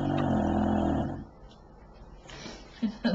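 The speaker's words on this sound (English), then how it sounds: "That dog snores so loud, doesn't he?" Loud, rumbling snoring from a short-snouted dog fills the first second, then fades into quiet room noise with a few soft stirrings.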